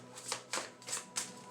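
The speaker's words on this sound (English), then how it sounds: "So I'm pulling some cards." Tarot cards being shuffled in four quick riffled bursts at an even rhythm, close and crisp, with no voices.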